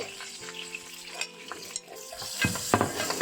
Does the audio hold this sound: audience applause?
no